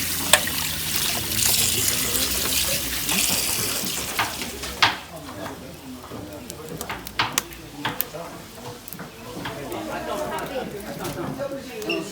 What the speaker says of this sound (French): Bien laver, bien rincer maintenant.